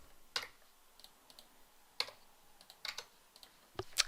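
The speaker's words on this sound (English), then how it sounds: "and typing in the description." Sparse, soft keystrokes tap on a computer keyboard as a description is entered into office software: isolated clicks spaced out over a few seconds, with a sharper tap near the end.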